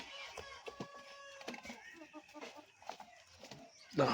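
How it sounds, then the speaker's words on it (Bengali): Kadaknath chickens cluck in short, uneven bursts close by, mixed with scattered clicks and a sharp burst of noise at the end. "এই হচ্ছে করকনাথ মুরগি এইখানে"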